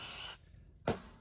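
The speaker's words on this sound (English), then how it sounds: "usually get some brake clean, give it another little clean" Brake cleaner sprays briefly onto an automatic transmission valve body, a short hissing burst that cuts off, followed after a pause by a second quick puff.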